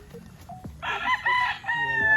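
An imported Gustavo Gray gamefowl rooster crows loudly nearby in a single drawn-out call, following a few softer clucks and background farm noises.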